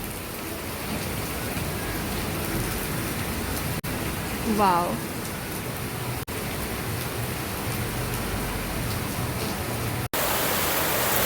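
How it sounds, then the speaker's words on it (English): Rain falls steadily on potted plants, a dense, even hiss of drops that continues throughout, with a brief voice exclaiming briefly near the middle. "put some plants under the rain so they will also get drenched in the rainy water."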